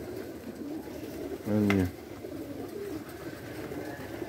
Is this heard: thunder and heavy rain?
no